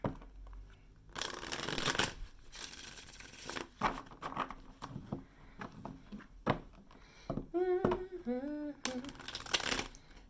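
Tarot cards, somewhat sticky, are shuffled in several quick riffling bursts close by, with soft papery slaps between them; a voice briefly hums or speaks near the end.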